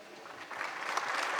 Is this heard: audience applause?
yes